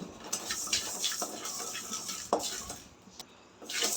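Salt dry-roasting in a pan while being stirred: close, repeated scraping and light clinking of a utensil against the pan, with a soft crackle underneath, no talking.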